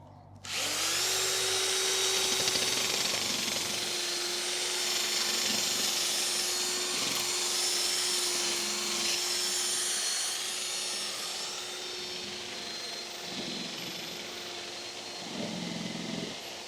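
An electric power tool sands the failed, yellowed UV coating off faded plastic car headlamps, droning loud and steady from start to finish, with a few short dips in load near the end.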